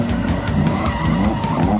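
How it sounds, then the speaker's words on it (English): A drift car slides with screeching, skidding tires over a steady engine roar, loud and close, with the squeal wavering continuously throughout. "Drifting."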